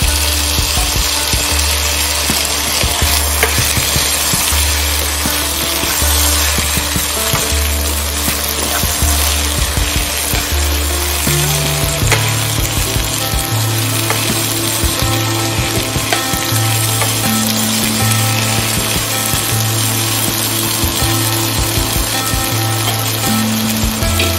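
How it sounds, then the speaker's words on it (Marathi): Finely chopped potato pieces fry in a pan for a Maharashtrian vange batata bhaji, a loud continuous sizzle running steadily beneath prominent droning tonal background sound. "त्यात आपण बारीक चिरलेल्या बटाट्याच्या फोडी घालणार आहोत।"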